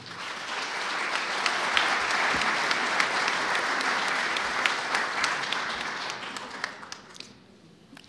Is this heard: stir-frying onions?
no